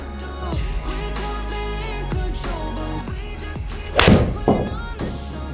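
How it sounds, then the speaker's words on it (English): A golf club strikes a ball once, a single solid thwack about two-thirds of the way through, set against a steady layer of other background sound. "That's a golf shot."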